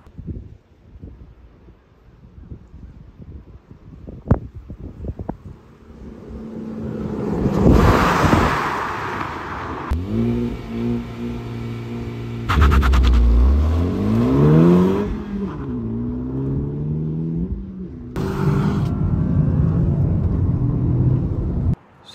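A 2023 Honda Civic Type R engine starts and revs, rising and falling through several throttle blips and a sustained climbing pull, with wind noise in the background.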